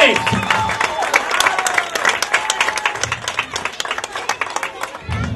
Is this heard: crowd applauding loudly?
yes